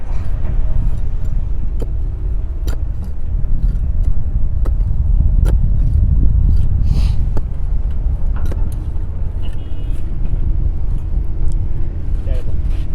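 A motor grader scrapes and levels ground at a work site. Its heavy engine drones loudly and steadily throughout, with occasional sharp clanks and clicks over the rumble.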